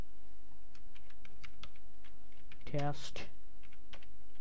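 Computer keyboard being typed on, a string of light, close key clicks at an uneven pace, with a brief spoken word in the middle.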